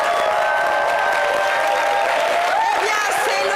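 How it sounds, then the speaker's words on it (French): A television studio audience breaks into clapping and cheering for a team, a loud burst of applause with whoops rising over a brief musical or vocal tone, continuous throughout. "Merci public, on peut applaudir une équipe."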